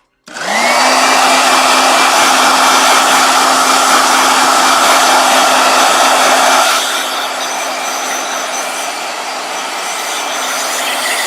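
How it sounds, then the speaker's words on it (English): A hair dryer whirs loudly and steadily up close, its pitch and volume dropping partway through as it switches to a lower setting. "So I'm gonna do a blow dryer."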